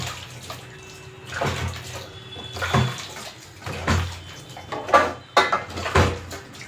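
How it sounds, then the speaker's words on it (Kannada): Hands being washed under running water in a home kitchen, splashing and rubbing in irregular bursts with occasional clinks of dishes, close and moderate. "ಬನ್ನಿ ಕೈ ವಾಶ್ ಮಾಡ್ಕೊಳ್ತೀನಿ."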